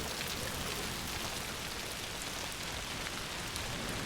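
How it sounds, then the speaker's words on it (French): Heavy rain in the video game A Plague Tale: Requiem, a steady dense hiss of falling drops that fills the scene evenly throughout, with no voices over it. "Dommage d'avoir fait une pluie aussi belle."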